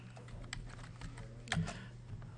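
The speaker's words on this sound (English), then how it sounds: "I'm going to type the word body" Quiet, close typing on a computer keyboard: a light patter of irregular key clicks with one slightly firmer tap near the middle.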